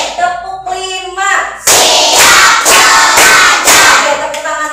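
Elementary classroom of fifth graders clapping in unison, four or five sharp group claps in a steady rhythm, loud and close, with a teacher's voice before and after.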